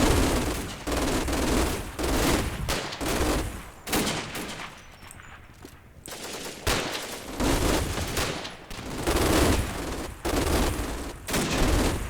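Machine-gun fire from Lanzerath Ridge in the World War II wargame Combat Mission Final Blitzkrieg: loud, sustained automatic bursts with short gaps between them, rolling on for several seconds with no talk.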